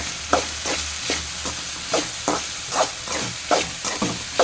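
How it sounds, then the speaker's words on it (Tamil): Ridge gourd stir-fry with salt and ground spice paste being turned in a pan, a soft sizzle broken by regular scraping strokes of a spoon, about one stroke every half second, close and clear. "கொஞ்சோண்டு பொடி உப்பு சேர்த்து இதை கிண்டி விடணும்"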